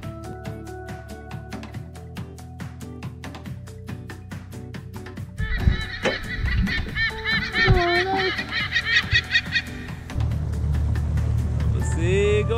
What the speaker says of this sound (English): The seagulls.